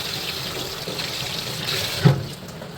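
Homemade white butter is washed in water in a vessel. Steady close splashing and sloshing run throughout, with one brief louder knock partway through.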